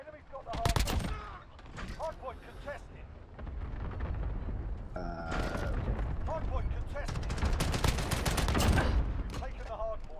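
Rapid gunfire from an FR 5.56 rifle in a video game, with bursts of shots and booming impacts heard near and loud, while a person talks over them.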